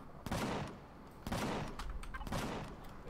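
Automated base turrets firing in the space survival game Empyrion Galactic Survival: three loud bursts of rapid gunfire about a second apart, each a sharp crackling volley that trails off before the next.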